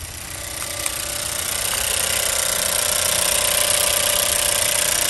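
A Chevy Cruze engine idles steadily after its throttle body was repaired for a P1101 code, a constant close mechanical hum and whir that slowly grows a little louder, with no talking.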